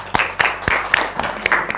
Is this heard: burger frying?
no